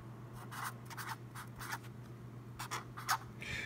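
Handwriting with a pen on paper: short, quiet scratching strokes in irregular bursts over a steady low hum, close and faint, with no talking.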